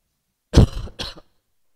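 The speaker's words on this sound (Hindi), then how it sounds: "मेरे खांसी हो रखी है आजकल।" A person coughs twice close by, a heavy rough burst followed a beat later by a shorter second cough, with silence around them.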